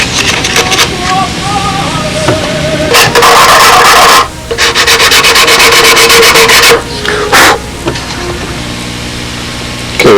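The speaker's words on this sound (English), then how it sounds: "This hardens up the wood, and then we have an angle we can sand off." Hand sanding of hardened wood at the nose of a model Spitfire fuselage, with repeated rough rubbing strokes in uneven bursts, close and fairly loud, with some background noise.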